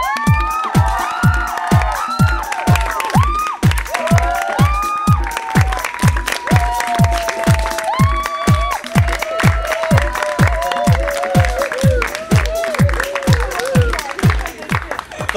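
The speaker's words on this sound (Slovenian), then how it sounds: "En bučen aplavz." Applause for a contestant in a beauty contest, with rhythmic unison clapping in a steady fast beat alongside cheering and children's shouts, loud and sustained throughout.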